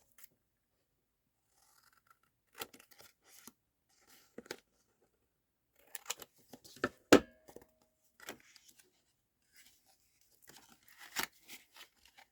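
Scissors cutting paper: scattered short snips and crisp crunches come in loose clusters, close and fairly quiet, with gaps of near silence between cuts.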